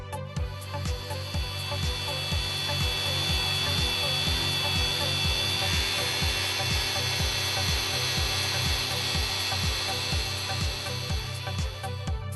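A power tool spins a Blendex disc at 5,000 RPM to smooth a flat metal surface for a brushed finish, giving a steady whirring hum with a regular low pulsing throughout, close and continuous, with no talking.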